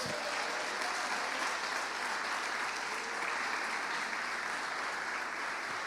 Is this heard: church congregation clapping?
yes